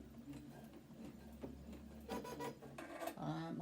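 A sewing machine sewing a quarter-inch seam on a folded rose pinwheel quilt block, running in short, rough bursts with clunking and labored stitching, close by, with a low steady hum underneath.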